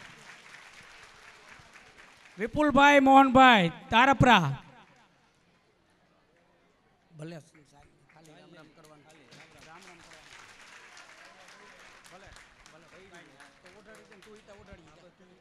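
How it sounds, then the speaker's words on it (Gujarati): A crowd at a Bhagavat katha gathering in Moti Matli village breaks into a short burst of applause welcoming a donor, under a voice naming him, then talk resumes. "વધાવો આ દાતાશ્રીને તાળીઓથી"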